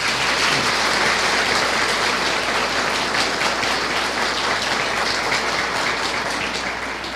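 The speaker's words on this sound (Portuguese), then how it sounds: "Uma salva de palmas para eles." Sustained applause from the audience at a Spiritist lecture hall fills the whole stretch, steady dense clapping that stays loud throughout and tapers slightly near the end.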